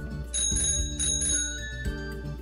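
A bicycle bell rings with bright, sustained metallic tones, struck a few times in quick succession so the rings overlap and linger, clear and close without any talking.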